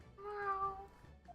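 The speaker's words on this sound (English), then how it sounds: "Behold, a cat in 3D." A single cat meow from the video game The Great Ace Attorney: one short, clear, tonal mew that rises and falls over about half a second, fairly quiet, with no talk over it.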